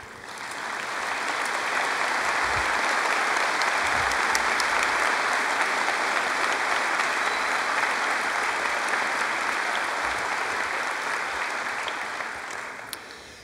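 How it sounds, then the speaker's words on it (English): Crowd at a Chaska High School graduation ceremony giving sustained applause in a large hall, a dense, even wash of many hands clapping that swells in and then fades over about thirteen seconds. "please stand and face the audience for a round of applause"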